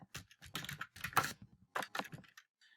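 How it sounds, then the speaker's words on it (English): Fingers type on a computer keyboard while entering a name into an online application form, a quiet close run of quick clicking keystrokes in short bursts with brief pauses. "we'll just go ahead and type the name in, hit next."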